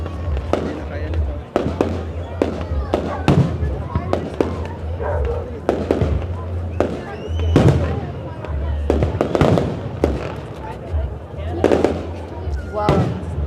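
Repeated booms and sharp cracks of Canada Day fireworks in Regina, Saskatchewan, going off in irregular bursts, with people talking and reacting throughout.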